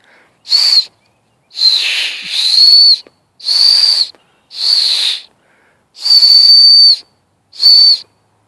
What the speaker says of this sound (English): Nice bushcraft whistle out of a willow bush.